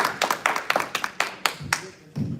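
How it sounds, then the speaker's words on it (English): Scattered hand claps from a small audience at a Hari Katha gathering during a temple opening, a dozen or so separate sharp claps in an uneven rhythm, fairly close and fading out at the end. "A big round of applause."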